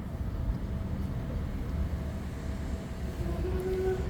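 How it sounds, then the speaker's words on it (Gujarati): A steady low rumble of a train rolling along the tracks, continuous and moderately loud with no talking. "જો એ ટ્રેન છે"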